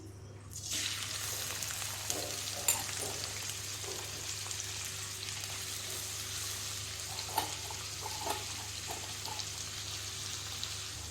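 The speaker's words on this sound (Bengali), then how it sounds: "তেলটা গরম হয়ে গেছে, এবার আমি পেঁয়াজটা ঢেলে দেবো।" Onion drops into hot mustard oil in a pan and sizzles loudly and evenly throughout, with scattered sharp crackles and pops over a steady frying hiss.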